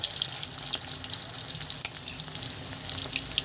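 Small fish patties fry in hot oil with a steady crackling sizzle, small pops and spits throughout.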